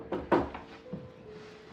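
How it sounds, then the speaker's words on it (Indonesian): A few dull knocks thud on a wooden door from outside, sharp and brief near the start, followed by quiet room ambience. "ada suara ketukan pintu dari luar."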